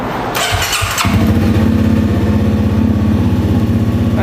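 A Honda CRF250 motorcycle engine cranks briefly, then catches and settles into a steady, loud, close idle with a rhythmic throbbing beat.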